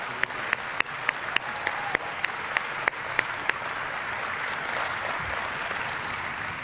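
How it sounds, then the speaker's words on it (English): Audience applause for a retiring official at a gathering on an air force base, a moderate rustle of many hands with several sharp, distinct claps standing out near the start. "can we all offer him a round of applause for 13 years?"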